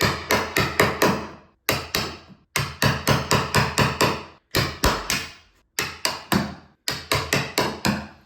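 A hammer drives a small chisel to chip wood from a door edge for a lockset and deadbolt install, sharp close strikes in quick groups of three to five with brief pauses between.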